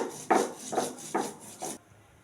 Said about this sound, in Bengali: পোস্ত কাঁচা লঙ্কা বেটে নিচ্ছি।